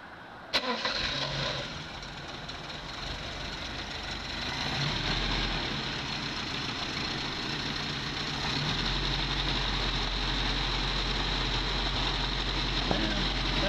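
A 1970 Opel GT with a carbureted engine, apparently a Weber carburetor, cranks and fires at once, then settles into a steady, even idle that gradually deepens and holds, close by, with faint voices in the background.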